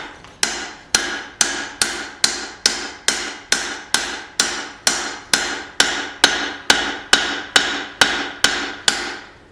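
Steady, evenly spaced hammer blows ring out on an anvil, around twenty sharp metallic strikes planishing a forged steel tomahawk head, loud and close with no talking.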